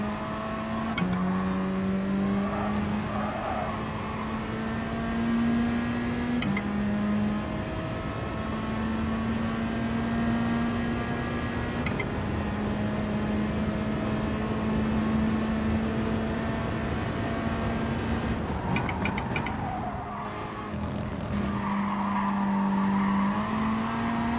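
A race car engine in the Gran Turismo Sport video game holds a steady high drone, broken by several gear shifts that briefly drop and step the pitch back up, with faint tire noise beneath.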